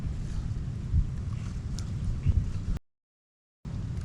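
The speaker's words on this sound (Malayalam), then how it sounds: "വൈകുന്നേരമായി, നല്ല കാറ്റുണ്ട്" Gusty evening wind rumbles heavily against the microphone in Lakshadweep with a few stronger buffets, then cuts out briefly before resuming.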